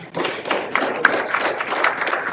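Meeting attendees at a community gathering applaud the alderman, a modest group of hands clapping in a loose, uneven patter that holds steady for a couple of seconds.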